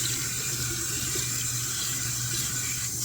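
A bathroom tap runs steadily into a sink during face washing after a honey and turmeric mask, a constant close hiss of flowing water with no speech over it.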